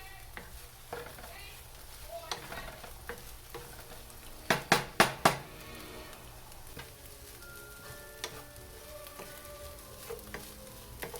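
Vegetables stir-fried in a pan until they darken, giving a steady low sizzle with a quick burst of four or five sharp spatula scrapes and clacks near the middle and lighter stirring knocks scattered around it.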